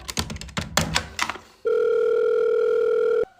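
A telephone rings in a comedy sketch. A loud, steady electronic ringing tone holds for about a second and a half, then cuts off abruptly, after a burst of clattering sounds.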